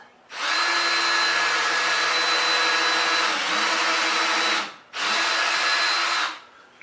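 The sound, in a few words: drilling a countersink chamfer with a power drill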